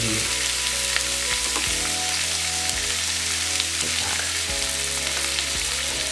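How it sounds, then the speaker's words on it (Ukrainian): Oil sizzles and crackles steadily in a pan as slices of bread fry for hot sandwiches, with occasional scraping knocks from stirring. "І далі продовжуємо смажити."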